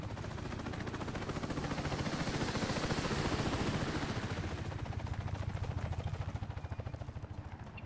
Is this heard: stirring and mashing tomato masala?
no